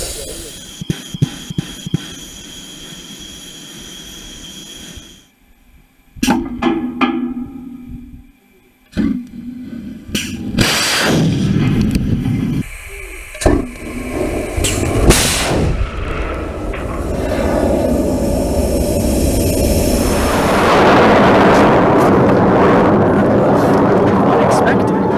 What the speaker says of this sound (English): That was a UCLA rocket.